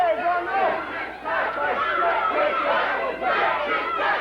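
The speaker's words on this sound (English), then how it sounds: "the crowd is verifying what Brian has said" Wrestling arena crowd at a 1994 USWA televised match in Evansville roars and shouts steadily and loudly throughout, a dense wall of cheering voices with a brief dip near the middle.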